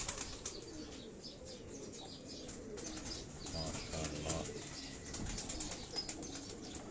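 A pigeon's wings flap in quick bursts near the listener on a rooftop in Karachi, broadband fluttering over a steady outdoor background with a faint coo.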